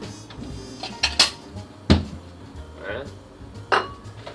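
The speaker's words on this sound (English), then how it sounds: "And now we take a second smaller bowl" A second, smaller mixing bowl is handled in a kitchen, setting off several sharp clinks and knocks of dishware at irregular intervals, close and moderately loud, over a low background hum.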